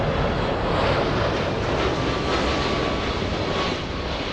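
A Korean Air Boeing 747 landing at LAX, a loud continuous broadband jet roar dominating close by, steady throughout without any voices.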